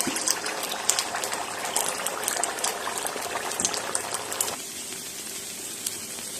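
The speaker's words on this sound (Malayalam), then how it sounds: "എണ്ണ നന്നായിട്ട് തിളച്ചിട്ടുണ്ട് നമുക്കിപ്പോൾ ഒരു തവി എടുത്തിട്ട് ഇതിൻ്റെ നടുക്കോട്ട് ഒഴിച്ചു കൊടുക്കാം" Muttayappam batter poured into hot boiling oil sets off a dense, close bubbling sizzle that crackles steadily, then settles into a softer, even fry after a few seconds.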